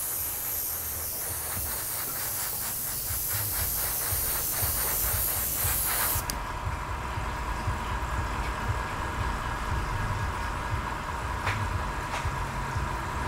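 Airbrush spraying colour shift hobby paint onto a spoon, a steady loud hiss that cuts off partway, leaving a quieter compressor-like hum behind.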